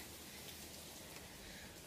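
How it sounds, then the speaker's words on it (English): Heavy rain pours down during a hurricane as a dense, constant hiss that fills the whole moment evenly, with no voices. "It's pouring down rain."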